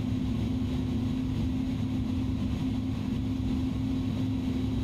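A steady, low engine hum comes from an Airbus A310-300 in a flight simulator as the throttle eases forward to taxi. The drone holds even and unbroken throughout, with no voices.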